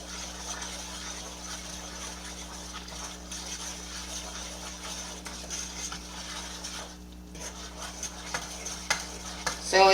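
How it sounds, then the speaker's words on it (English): Brown sugar and a stick of butter stirred together in a pan for candy, a steady low simmering hiss and faint scraping throughout, with a few louder clinks near the end; no talk. "I'm just stirring it up until it gets to a certain degrees"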